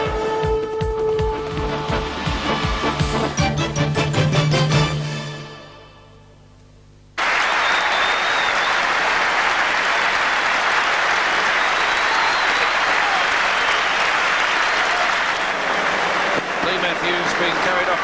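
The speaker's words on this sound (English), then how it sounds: "340 games and receiving a huge round of applause even from the Essendon fans here now as Matthews makes his way to the dressing ro" A huge stadium crowd at the 1985 VFL Grand Final, Hawthorn versus Essendon, roars in loud, sustained applause after a stretch of music and a brief lull, with a broadcast voice over the crowd noise.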